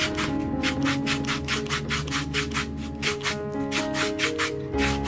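Coarse sandpaper scrubbing a sausage-shaped fishing float in steady, rhythmic back-and-forth strokes, close and fairly loud, with a constant gritty rasp and no talking.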